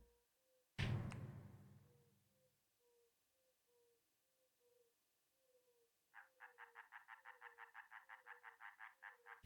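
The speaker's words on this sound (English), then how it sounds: "Probably a frog looking at you, Andawin." A frog croaking in a quiet night setting, a rapid pulsing trill of about twenty throaty croaks near the end, after a sharp knock and a soft, steady low piping call repeating in the background.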